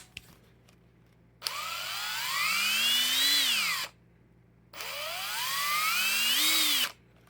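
A Snap-On 14.4V MicroLithium cordless screwdriver with analog trigger whirs up twice, its motor pitch climbing smoothly as the trigger is squeezed and then cutting off, each run lasting about two seconds, close and alone.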